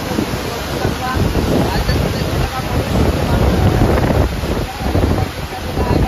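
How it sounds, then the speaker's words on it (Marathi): Overflowing water rushes over the Makardhokda dam in a loud, constant roar with heavy wind buffeting, broad and unbroken throughout. "पाणी बघा किती उफांडून वाहू राहिलेलं आहे"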